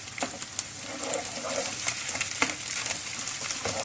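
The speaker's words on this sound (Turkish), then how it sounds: "yağın içerisine tamamen insin ve hepsini bu şekilde bir 3-4 dakika pişirelim" Pasta ingredients fry in oil in a pan, giving a soft continuous sizzle with scattered spoon clicks and scrapes against the pan, close by and with no talking.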